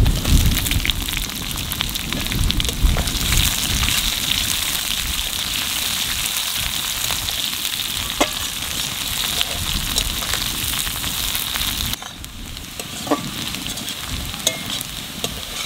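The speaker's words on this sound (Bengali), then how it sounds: "পেঁয়াজটা একটু ভাজিয়ে নিছি" Onions fry in oil in a pan for a bamboo shoot and dried fish dish, giving a loud, continuous close sizzle with scraping stirs and small crackles, no voices, easing slightly near the end.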